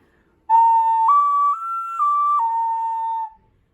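A small handmade clay whistle is blown in one sustained, clear tone that steps up in pitch and back down, close and alone.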